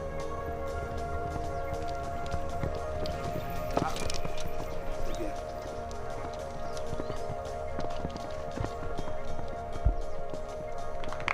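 Horse hooves clip-clop on a show jumping course in the Sahara, a rhythmic run of muffled strikes with a few sharper thuds, heard under steady talking.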